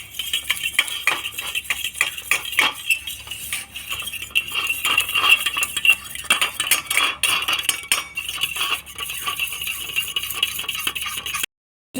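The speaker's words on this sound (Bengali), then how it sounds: "এরকম একটা কাঁটা চামচে করে এইভাবে ভালো করে ফেটে নেবো, যাতে কোনো দইয়ের মধ্যে কোনো দলা না থাকে।" A fork whisks yogurt in a bowl, quick rhythmic scraping and clinking of metal against the bowl that continues steadily, close and alone for about eleven seconds.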